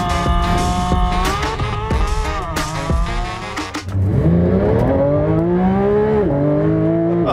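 A Porsche 911 GT3 RS naturally aspirated engine revs hard and loud, pitch climbing and dropping through gear changes, with sharp crackles and a rising howl near the end.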